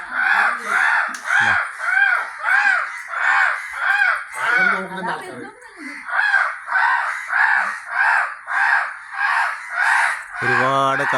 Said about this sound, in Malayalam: ഒരുപാട് കാക്കകൾ ഇവിടെ എത്തിയിട്ടുണ്ട്.